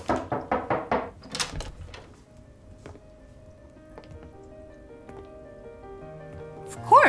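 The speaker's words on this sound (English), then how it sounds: "someone knocked on the door" Several sharp knocks rap on a hotel room door in a quick run of about six, close and distinct, followed by a quiet room with faint tonal background sounds.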